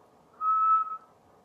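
A person whistles a single sustained, clear note lasting about half a second, close and loud against quiet.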